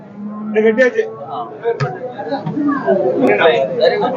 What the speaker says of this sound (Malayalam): ചന്തക്കെത്തിയിട്ടുള്ള നല്ലൊരു എരുമയാണ്